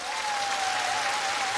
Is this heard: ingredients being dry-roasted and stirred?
no